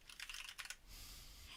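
Rapid clicking of keys typed on a computer keyboard while entering a group name, a quick burst of keystrokes followed by a steady background hum.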